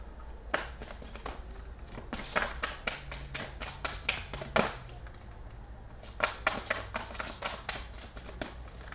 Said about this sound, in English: Sorry for the shuffling